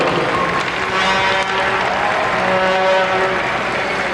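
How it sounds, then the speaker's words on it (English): Crowd in a hockey arena applauding during a 1997 junior hockey pregame ceremony, a broad continuous wash of clapping and crowd noise with faint tonal sounds underneath, loud and sustained. "Let's give them a warm round of applause, ladies and gentlemen."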